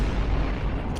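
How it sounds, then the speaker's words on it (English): A loud, booming explosion sound effect fills the clip with dense low rumble and no pauses, played alone without talk. "That's that compound explosion"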